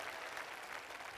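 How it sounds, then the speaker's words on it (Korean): Audience at an outdoor civic festival talk concert in Seongnam clapping for middle and high school students, a continuous faint wash of applause from a distant crowd. "중고등학교 청소년들에게 여러분 박수 한번 부탁드리겠습니다"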